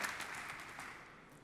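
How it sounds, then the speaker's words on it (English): Audience applause for a presenter at an early-stage pitch competition, a short burst of steady clapping from a moderate crowd, fairly faint and alone. "Round of applause for Charles from TravelUnion."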